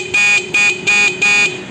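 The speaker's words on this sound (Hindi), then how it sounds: "हमारा हॉर्न चालू हो गया है, ये देखो चालू हो गया।" A repaired motorcycle horn blares in four loud, steady honks with short gaps between them, close and alone with no talking.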